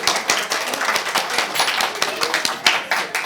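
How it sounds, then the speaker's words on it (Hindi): Children and adults clap together at a storytelling session of a literature festival, a brisk burst of dense, close handclaps lasting a few seconds, with voices mixed in. "तालियां"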